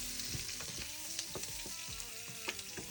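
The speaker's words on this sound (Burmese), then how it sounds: "ဒီလေးပူလာပြီဆိုရင်ကြက်သွန်လေးလေး အဲ လီလာလေးကိုထည့်ပါမယ်" Onion sizzles and crackles in hot oil in a pan, a steady close frying hiss with scattered pops and stirring scrapes, no voices.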